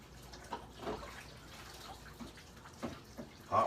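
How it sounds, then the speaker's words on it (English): Hot tap water runs while dishes are washed by hand, a faint, steady splashing with small clinks and drips scattered through it, heard alone at low level. "Turn on the hot water, squirt some soap on the dishes"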